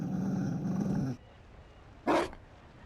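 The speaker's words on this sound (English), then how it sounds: "You found a dog?" A Mabari war dog in a fantasy role-playing game gives a low, rumbling growl for about a second, followed by a short, sharper snarl or bark after a pause.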